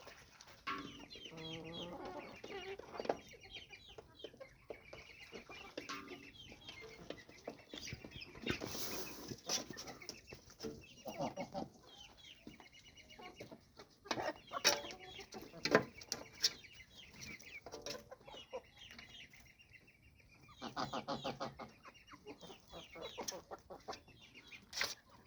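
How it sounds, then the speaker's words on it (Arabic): Chickens cluck and squawk close by in a coop in bursts, with occasional wing flaps, scattered over a quiet background. "النهارده بقى بعش الفراخ بتاعتنا وبنتكلم في كل حاجه تخص الطيور."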